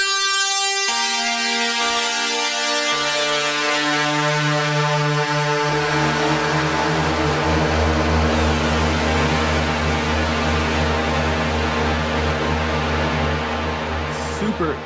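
A NoizBox noise synthesizer with its reverb effect, producing a dense, continuous droning tone with stacked harmonics and a washy reverberant hiss, loud and steady, shifting pitch layers partway through.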